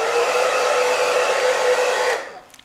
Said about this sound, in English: Just use a hair dryer like this.